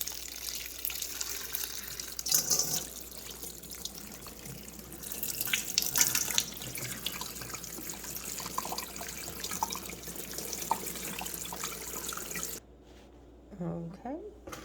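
Water splashes and trickles steadily over an orchid's leaves and potting mix, with brief louder gushes, a pause near the end, and a voice talking over the flow.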